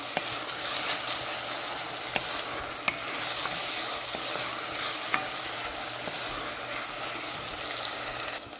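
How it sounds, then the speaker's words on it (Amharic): Leeks being added to vegetables frying in a pan for an Ethiopian vegetable dish, producing a steady close sizzle with a few sharp clicks of a utensil against the pan. "አሁን ባሮ ሽንኩርቴን እጨምራለሁ።"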